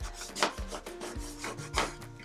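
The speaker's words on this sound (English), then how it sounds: "I'm going to use my scraper tool, and I'm going to scrape that pattern cardstock word onto my transfer tape" Scraper tool pressed hard and rubbed back and forth over a cardstock word on transfer tape, a faint, close scratchy rubbing in several short strokes.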